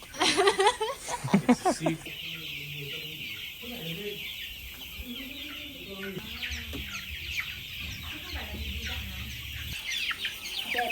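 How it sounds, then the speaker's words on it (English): A crowd of young Đông Tảo chickens on a Vietnamese farm clucks and chirps continuously, many overlapping calls close by, with a brief burst of voices at the start. "It's a sea of chickens."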